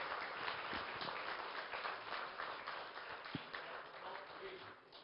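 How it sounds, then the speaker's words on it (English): Faint, steady applause from a town hall audience at a televised CNN News 18 Lok Sabha election event, a continuous wash of clapping heard at a distance for several seconds with no voices on top. "doesn't he deserve a bigger round of applause for gracing this CNN News 18 town hall?"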